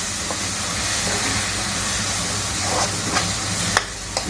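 Turmeric and chili powder sautéing in a pan for paneer bhurji, a steady soft sizzle with a few light stirring scrapes near the end, no voices.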